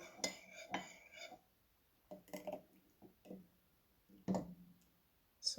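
A utensil stirring in a small bath of boiling water used to soak paint off glass and plastic containers, with a few faint, separate clinks and taps scattered among quiet gaps.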